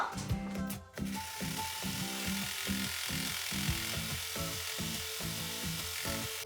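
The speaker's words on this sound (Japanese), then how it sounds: "そしたらロックミシンをかけましょう。" An overlock sewing machine serges the seams of a pair of trousers, running steadily with a fast, rhythmic mechanical clatter and whir, close up, with no talking.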